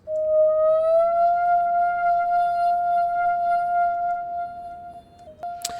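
Granular synth patch with a generous amount of FM from a sine oscillator, a single steady sustained lead tone with a slight upward pitch glide at the start, holding alone before a brief pitch drop and a click at the end.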